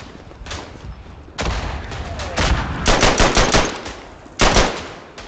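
Machine gun fire in the WWI shooter Verdun, with repeated loud close bursts of rapid shots separated by short pauses and sharp reports.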